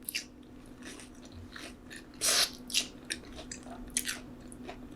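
Crunchy bites and chewing on a crispy air-fried Korean hot dog, several bursts of crackling close to the mic over a faint steady hum, with no talking.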